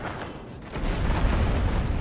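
A heavy explosive mortar round fires and bursts in the naval combat game Abandon Ship, a deep rumbling boom that swells after a quiet moment and rolls on loudly to the end, with no voices.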